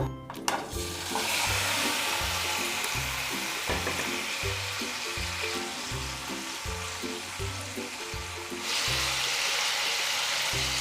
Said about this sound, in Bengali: পনির ভেজে নেব।